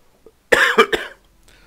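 A person close to the microphone gives a harsh cough of three quick rasping bursts, the first loudest, after a brief faint throat sound, in an otherwise quiet room.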